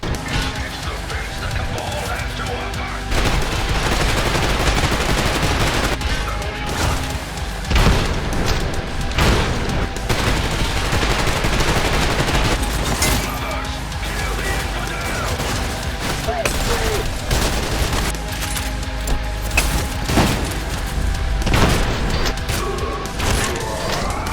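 Enemy gunfire in the shooter game Trepang2: dense, loud bursts of automatic fire and booming impacts rattling on continuously, with someone talking over the action.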